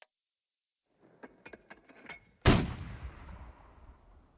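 Gunfire in a turn-based World War II strategy game: a few faint clicks first, then one loud, close blast that rolls off into a long, fading rumble.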